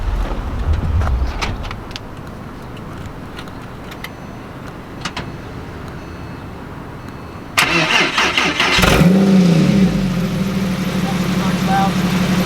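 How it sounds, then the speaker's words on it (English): A Porsche 911 (997.1) engine cranks and catches, then settles into a steady idle with a couple of quick revs; clicks and a brief voice come before the start. "Start the car, get a little rev blips"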